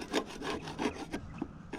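A wooden patio fascia board sanded by hand in quick back-and-forth strokes, a close, rough scraping rasp repeated about seven times.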